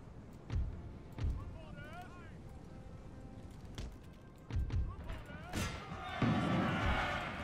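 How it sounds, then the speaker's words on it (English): Explosion in the Napoleon: Total War video game: scattered dull thumps and game voices lead up to a sharp broadband burst, followed by a loud, sustained rumbling roar that fills the last seconds. "Whoa, I just heard an explosion."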